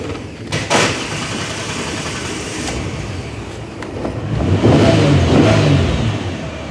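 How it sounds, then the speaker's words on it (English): A Ford Mustang engine cranking and then catching, a brief burst of starter noise followed by a loud close engine running and rising in revs toward the end. "Okay, you try to crank it, Mrs. O."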